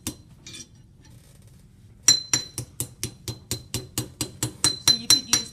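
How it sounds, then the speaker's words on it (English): A hammer strikes a metal bracelet on an anvil, first a few scattered taps and then a rapid, even run of about fourteen bright ringing blows, close and loud. "I can also try to bend this down a little bit with a hammer."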